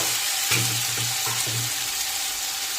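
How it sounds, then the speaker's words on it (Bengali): A spice paste of chilli and cumin powder mixed with water hits fried potatoes in a pan, setting off a steady sizzle with a few stirring scrapes. The frying is close and clear, and no one talks over it. "ভালো করে কষিয়ে নেব।"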